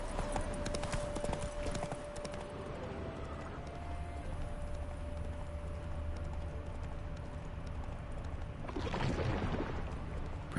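Roach, a horse in The Witcher 3, clip-clops along at a steady pace, the hoofbeats close and continuous, with a brief rustling burst near the end.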